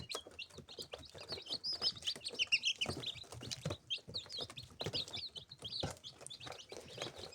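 Newly hatched chicks chirp constantly inside a purchased brooder with a lamp-fitted lid, with many high peeping calls overlapping closely and continuously throughout.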